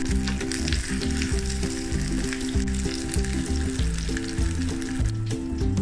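Mutton sizzling steadily in a hot pan just after being flipped, a close, continuous frying crackle with no talk.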